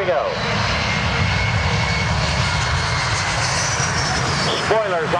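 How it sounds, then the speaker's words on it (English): A USAF C-17 Globemaster III roars through a steep approach and short field landing at a military airshow, its engines loud and close in a sustained broad rumble and whine, with a voice talking over it. "random steep and the short field landing capability of the big C-17 Globemaster 3."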